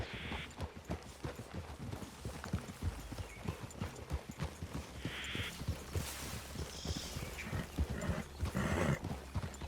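Horses walking in the Red Dead Redemption 2 video game, with a steady clip-clop of hooves and occasional snorts or whinnies over quiet outdoor ambience, at moderate distance and fairly soft.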